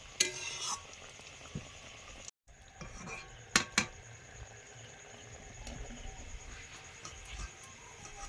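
Fish kabiraji cutlets fry in a pan with a soft, steady sizzle, broken by several sharp clinks and scrapes of utensils against the pan.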